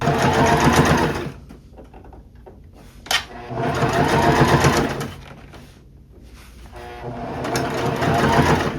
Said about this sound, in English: now I can just stretch and sew along this outer part of the sleeve